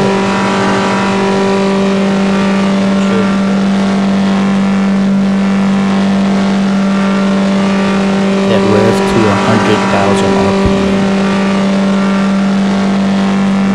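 A modded 30,000-horsepower drag race car with 24-wide tires in No Limit Drag Racing 2.0 holds a loud, steady engine drone, its pitch rising briefly near the end, with a voice talking over it.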